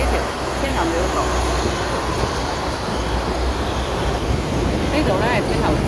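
A Hong Kong double-decker tram rumbles steadily along the street near Tin Hau, with a continuous loud rolling and rattling roar over traffic and a voice talking faintly underneath.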